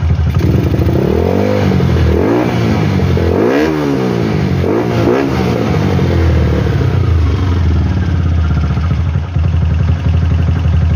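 A Rusi 200 SSV motorcycle engine fitted with a 32mm Keihin flatslide carburetor revs up repeatedly in close, loud bursts, rising and falling over a steady idle, then settles into a continuous idle for the rest of the clip.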